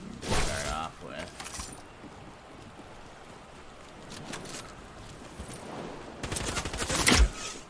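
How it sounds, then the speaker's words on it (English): Video game gunfire, with bursts of shots near the start, in the middle and a heavier volley at the end, over a low rumbling background. "I'm being shot at already"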